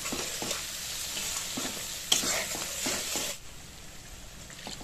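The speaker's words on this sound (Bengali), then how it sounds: "মশলার পেস্টটা দিয়ে ভালো করে গ্যাসের স্টিমটা লো করে ভালো করে ভাজতে হবে।" Spice paste fries in a pan over low heat, giving a steady close sizzle with soft scraping and stirring sounds throughout, and no voices.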